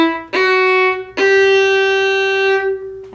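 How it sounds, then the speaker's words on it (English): Fiddle plays three bowed notes rising in a scale from E, each sustained and rich in harmonics, the first short and the last held longest before fading, close and clear with no talking. "Then I'm going to jump down to finger one, which is called E, and play scale going up."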